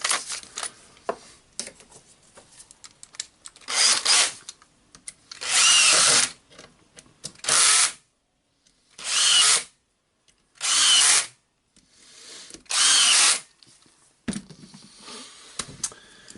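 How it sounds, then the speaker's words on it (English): A handheld power drill backs screws out, close up, in about six separate whirring bursts of one to two seconds each. Quiet clicks and handling noises fill the pauses between bursts. "I will unscrew it and it's resting to see it from the other side."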